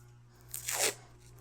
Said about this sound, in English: Take tape, masking tape